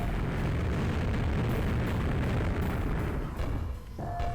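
Lava ball grenade explosions in a video game, a dense continuous roar of overlapping blasts and rumble, loud and sustained throughout with a brief dip near the end, no talk.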